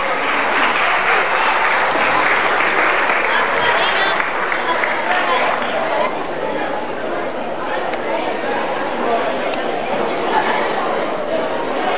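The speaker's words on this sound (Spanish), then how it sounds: "Fuerte el aplauso." Loud, sustained audience applause from a crowd at a club anniversary event, steady clapping filling the whole stretch with some chatter mixed in.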